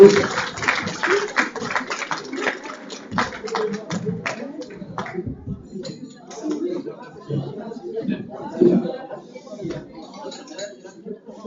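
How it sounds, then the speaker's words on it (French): A theatre audience gives a burst of applause for amateur performers, dense clapping that is loud at first and then thins into scattered claps under murmuring voices. "vous allez leur faire un tonnerre d'applaudissements pour les encourager"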